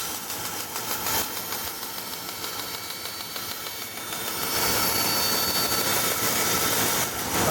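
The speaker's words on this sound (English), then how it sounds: "These nice long straights are best done on a bandsaw." A bandsaw rips a long straight cut through a piece of wood, giving a steady, loud broadband whir that swells and grows harsher about halfway through as the blade bites in.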